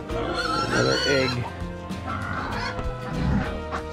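Backyard chickens, including a large white hen, cluck and call in a homestead roosting box on an Alaskan morning, their busy, overlapping vocalizations close and fairly loud throughout.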